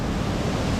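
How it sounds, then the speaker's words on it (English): Water rushes steadily through a diversion pipe near a waterfall at Rifle Falls State Park, a dense, continuous roar with no breaks. "And it's coming through this diversion pipe."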